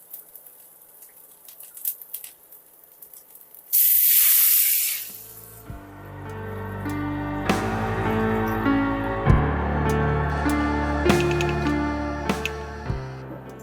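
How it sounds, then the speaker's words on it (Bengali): Coconut milk poured into a hot frying pan of cooking palm-seed kernel flesh sets off a sudden loud, close hiss that eases into a steady bubbling simmer with occasional clinks, no voices. "এভাবে একটু সময় ভেজে আমি দুধ দিয়ে দেবো, নারকেলের দুধ।"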